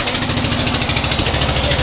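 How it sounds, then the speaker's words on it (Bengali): The engine of a fishing trawler runs steadily on the Meghna River. It is a loud, close, rhythmic chugging with a fast regular pulse and no voices. "ট্রলার ছুটে চলছে তার গন্তব্যস্থলে।"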